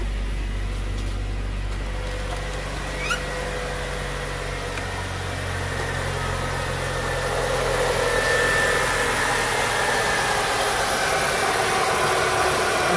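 A car engine idles steadily after its HEI ignition module has been repaired, a constant low hum and vibration running unbroken for the whole stretch, close and even, with no talk over it.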